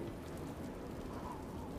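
Steady rain falls outside an open classroom window on a chilly November day, a continuous soft hiss of drops with no pauses and no voices.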